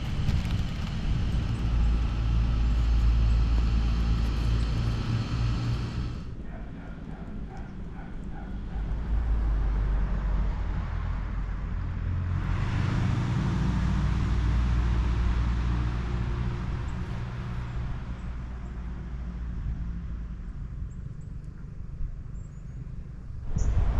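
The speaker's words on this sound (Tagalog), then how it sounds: "maingay yung mga dumadaang sasakyan kasi tabi lang tayo ng kalsada." Vehicles passing on a road right beside a campsite in Benguet near Baguio: two loud, broad rushing swells rise and fade, with a steady outdoor rumble between them and no talk.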